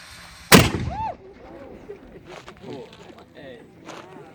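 A historic cannon fires once at Fort Ticonderoga, one sharp loud boom that rolls off into echoes, followed by faint voices and background chatter.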